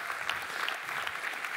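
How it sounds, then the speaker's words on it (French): A conference audience at a generative AI event in Rennes applauds Cyril de Souza Cardoso, a steady, fairly soft wash of many hands clapping with no voices on top. "Je vous demande de lui faire un triomphe sous vos applaudissements."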